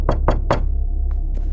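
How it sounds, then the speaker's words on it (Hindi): Three sharp knocks on a gate come in quick, even succession, loud and close, followed by a low steady hum and two faint taps, as a sound effect in a cartoon horror story. "मैंने गेट खटखटाया।"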